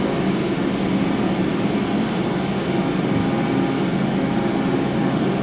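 A TBM850 turboprop airplane engine drones in a flight simulator game, a loud, steady broadband roar with no change in pitch or level, heard alone without any talk.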